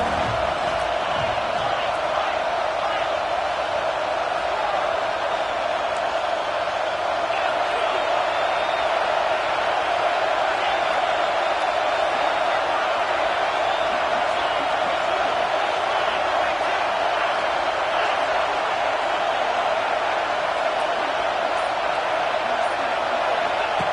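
Stadium crowd roar in the NCAA 26 college football video game, a steady dense wall of noise that holds constant throughout, with a commentator talking over it.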